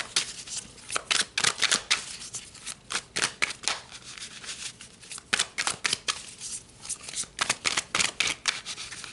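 Tarot cards are shuffled by hand in quick repeated bursts of crisp riffling and slapping, close and fairly loud, each flurry separated by brief pauses, with no speech over it.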